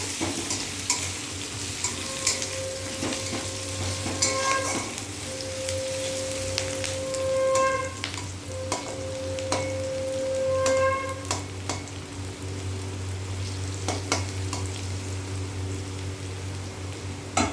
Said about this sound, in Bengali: পেঁয়াজটা হালকা ফ্রাই হোক